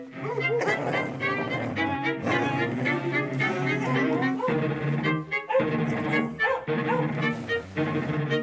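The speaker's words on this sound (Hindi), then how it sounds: "अपने डॉग्स भी वही देख करके भौंक रहे हैं।" Several dogs bark and yip in an outdoor scene, with repeated loud barks over a dense, busy soundtrack of music and effects.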